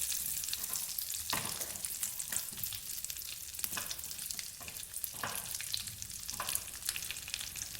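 Cashew nuts fry over a low flame in a pan, giving a steady bright sizzle throughout. Several louder scraping stirs break through the crackle at irregular intervals, close up and with no voices.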